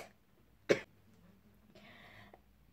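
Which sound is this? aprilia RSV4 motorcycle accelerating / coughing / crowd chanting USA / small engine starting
coughing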